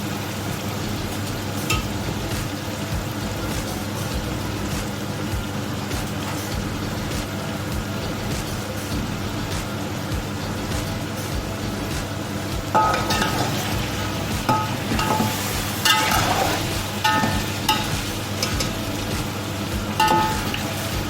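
Beef browning in a pot with ginger garlic paste for yakhni pulao over a medium flame, a continuous sizzle under steady scraping and stirring, growing louder with sharper clatter of the spoon against the pot in the second half.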